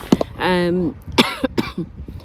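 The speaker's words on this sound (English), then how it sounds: "I'm sorry I keep coughing." A few close, harsh coughs break out, mixed with a short voiced sound, loud and abrupt.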